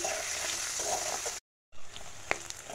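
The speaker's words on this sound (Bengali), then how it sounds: "এখন প্রথমে আলুগুলোকে ভেজে নেব" Soft, steady sizzling of potatoes frying in oil, briefly cut off, then resuming with a few sharp pops and stirring clinks.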